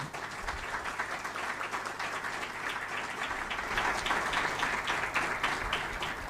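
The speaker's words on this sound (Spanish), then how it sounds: "Primero el agradecimiento en forma de aplauso" An audience applauds after a talk by the president of a Chilean trade association, dense steady clapping lasting several seconds, swelling slightly toward the end, with no voices over it.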